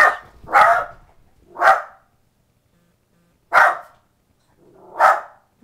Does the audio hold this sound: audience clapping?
no